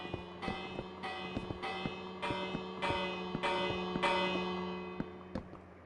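Church bells ring out from a tower in a town-building video game, a series of loud, resonant strikes at an uneven pace, each one ringing on and overlapping the next, with no voices.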